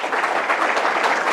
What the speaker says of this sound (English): A few applause.